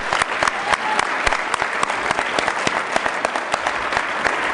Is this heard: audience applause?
yes